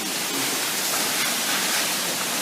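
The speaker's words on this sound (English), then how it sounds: "you can walk behind this man-made waterfall" A man-made waterfall at Twin Falls Ridge roars in a steady, dense wash of falling water, heard up close as an unbroken rush with no voices over it.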